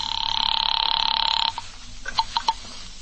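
An old-time radio drama telephone rings with a steady two-tone bell for about a second and a half after a number is dialed, then stops, followed by faint clicks and bumps.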